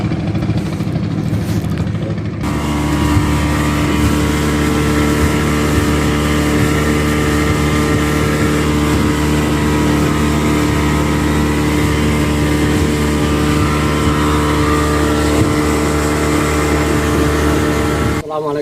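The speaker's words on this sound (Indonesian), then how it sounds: "Hari ini kami menggunakan transportasi air yaitu speedboat." Speedboat engine running steadily on open water, a loud, continuous motor drone with water rush that holds evenly throughout after a brief quieter opening, with no talk over it.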